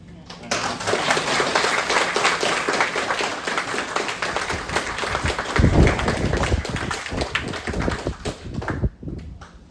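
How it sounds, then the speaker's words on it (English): A launch-event audience claps for an absent team member at the 2024 Cardiff Racing CR20 car unveiling, dense applause sustained for nearly ten seconds at steady loudness with a brief stronger swell midway. "I actually want to give him a round of applause because I think he deserves it"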